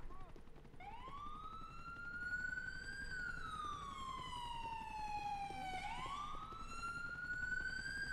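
An ambulance siren in the video game GTA IV wails in long rising and falling sweeps, loud and steady over a faint background hum.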